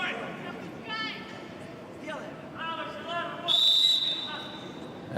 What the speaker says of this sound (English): the referee blew the whistle